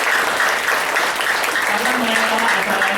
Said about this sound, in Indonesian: Bolehkah kita tepuk tangan buat para leader kita di sini?